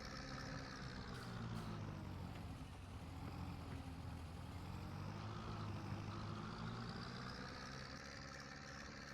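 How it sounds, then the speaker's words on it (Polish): A newly acquired tractor's engine runs steadily at idle on a farm, a continuous low throbbing drone with no breaks and no voices. "Nic dodać ani ująć pięknie chodzi"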